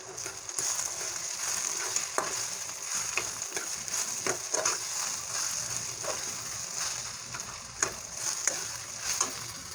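Fresh grated coconut roasting in a pan for Marathi egg curry, a soft continuous sizzle with repeated scraping and stirring strokes of a spatula at an irregular rhythm, moderately quiet and with no speech.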